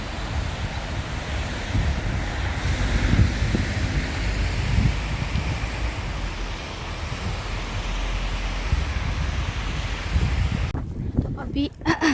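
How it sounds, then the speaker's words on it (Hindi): Cold wind blowing outdoors on a freezing day, a steady rushing roar with buffeting on the microphone that continues throughout. "थोड़ी हवा चल रही है, काफ़ी ठंडी हवा चल रही है।"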